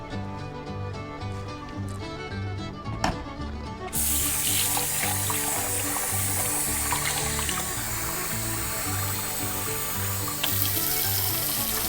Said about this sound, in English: I'm gonna put 10 cups of water in here